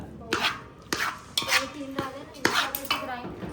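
A spoon repeatedly clatters and scrapes against a metal bowl while a dry fruit laddu mixture of chopped dry fruits is stirred, in a steady rhythm of about six close, sharp strokes.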